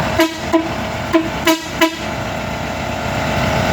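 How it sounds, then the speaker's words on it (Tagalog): A deep, bassy car horn honks in five short blasts, loud and close, over a steady background rumble, from a Volkswagen Beetle hot rod with air suspension. "pang bass yung busina mga boss"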